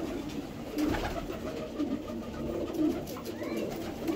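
Pigeon pairs coo in repeated low, throaty rolls, a steady close chorus of soft pulsing calls with no talk.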